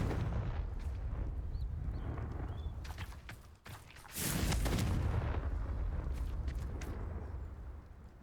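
Confringo blasting spell in Hogwarts Legacy: a sudden loud explosive burst with a rushing rumbling tail, preceded by a few lighter cracks over a low ambient drone.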